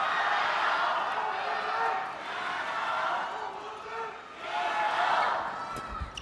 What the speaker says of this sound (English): Massive shout from the crowd